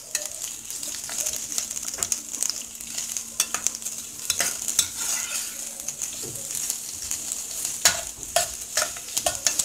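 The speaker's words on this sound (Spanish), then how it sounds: "Vamos a freír nuestra cebolla." Chopped onion frying in a pan for a poblano-style chicken breast dish, with a steady close sizzle and frequent utensil stirs and clinks against the pan.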